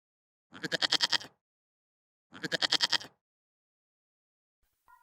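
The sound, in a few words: herd of goats bleating in a cartoon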